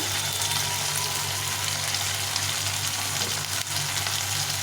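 Ginger-cumin paste with salt sizzles and fries steadily in hot oil in a pan, a continuous close crackling hiss with a low hum underneath and no talking.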